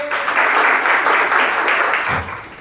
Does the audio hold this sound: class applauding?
yes